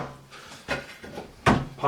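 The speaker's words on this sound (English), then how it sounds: "Pop out drawer." A tip-out storage tray on a bathroom vanity is opened and closed, giving a few short wooden clacks and thumps close by.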